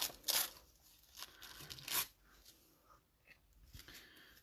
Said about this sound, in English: So let's tear a little bit off here.